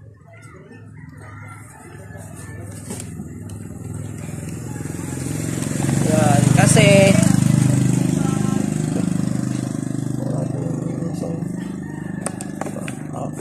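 A Suzuki Smash 115 motorcycle with a neutral light and headlight fault and a hard-start problem cranks and catches, then its engine runs at a steady idle, swelling louder midway, while someone talks nearby.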